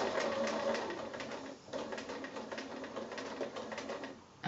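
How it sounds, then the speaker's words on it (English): Sewing machine stitching up to a mitred corner of a quilt, a soft, fast mechanical rattle of needle strokes running in short bursts with a brief pause, heard faint and close in a quiet room. "So I'm going to sew right up to there."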